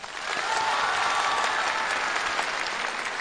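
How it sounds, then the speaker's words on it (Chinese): Audience applause for performers under a spotlight, a full, sustained wash of many hands clapping that swells in quickly and holds steady to the end, with no talking over it. "现在在聚光灯下给他们一次完美的掌声。"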